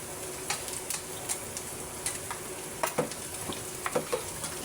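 Meat and onions browning in a pan for menudo, a continuous low sizzle punctuated by scattered pops and scraping stirs from a utensil against the pan.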